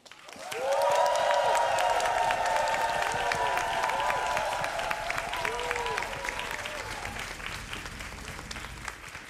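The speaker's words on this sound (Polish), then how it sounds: "dotyczy głównego bohatera Janka Budziaszka, dla którego należą się najpiękniejsze brawa i podziękowania." Audience at a religious worship gathering breaks into sustained applause that swells quickly, holds steady for several seconds, then gradually fades, with a few light cheers mixed in.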